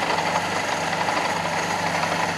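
The carburetor engine of a Fiat Panda 4x4 Sisley, with its idle mixture screw disturbed, idles roughly up close, a loud, continuous, uneven throb with a knocking edge and no talk.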